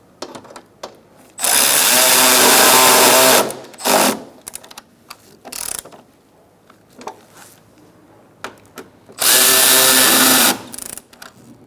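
A power tool tightens the silver bolts on a 2012-2018 Ford Focus front bumper cover. Two loud, buzzing bursts of about two seconds each are separated by a quieter stretch of clicks and handling sounds.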